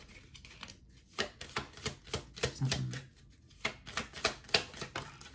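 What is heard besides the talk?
shuffling tarot cards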